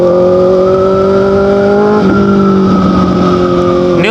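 Motorbike fitted with an Austin Racing exhaust riding on New Zealand roads, a loud, steady engine drone close up that dips briefly midway, then carries on with a shifting pitch.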